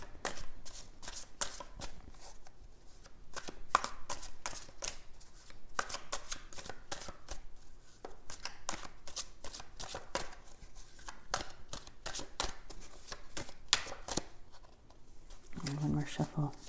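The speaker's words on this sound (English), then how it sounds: "One more shuffle." Tarot cards are shuffled repeatedly at close range, crisp riffling bursts with short pauses between them, quiet and intimate.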